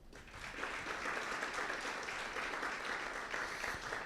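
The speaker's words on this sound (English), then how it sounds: "I would like to ask you for the applause for the program committee members" A conference audience in a hall applauds the program committee at an opening plenary, steady sustained clapping from many hands heard from a distance at moderate level.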